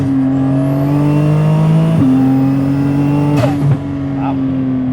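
A 650 hp Porsche Cayman GT2RS accelerates hard while driving, its engine note climbing loud and close through a couple of gear changes before easing off, heard from inside the car.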